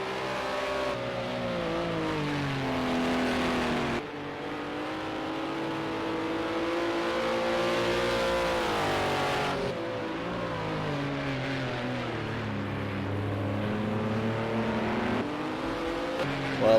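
Sim racing cars in an eSports racing game lap continuously, a steady engine drone rising and falling through gear changes, loud and sustained throughout without any voice.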